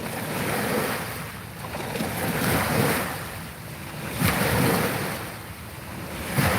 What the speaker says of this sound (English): I'm not sure if this water's too loud